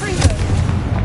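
A Confringo fire blast spell explodes in Hogwarts Legacy, a dense booming blast with low rumble filling the whole short moment, loud and close.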